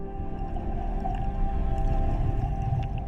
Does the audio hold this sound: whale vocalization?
yes